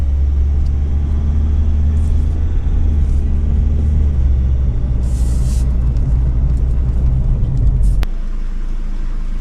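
A vehicle's engine rumbles steadily up close as it drives in at a house construction site in Rosario, La Union, then drops abruptly to a quieter idle near the end, with no talking.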